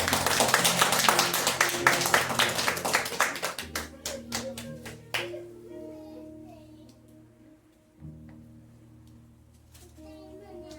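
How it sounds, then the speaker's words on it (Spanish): A church congregation claps loudly in a fast, dense burst that thins into scattered claps over a few seconds, then quiet room sound with low sustained tones and faint voices. "Denle un fuerte aplauso al Señor."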